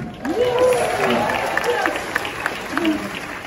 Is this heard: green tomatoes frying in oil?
no